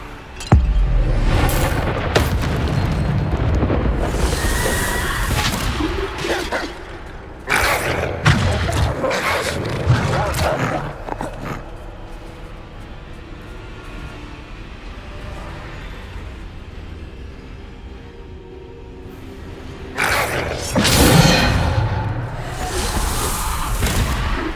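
Hogwarts Legacy spell combat with Bombarda blasts and other spells: repeated booms, thuds and whooshes in irregular clusters, loud bursts separated by quieter stretches of rumbling game ambience.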